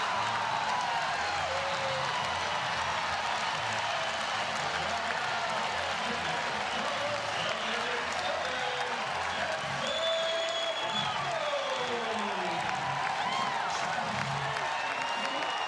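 A stadium crowd at a Utah Valley versus Oregon college baseball game cheers and applauds steadily throughout, a dense roar of clapping and whoops with a faint announcer voice underneath.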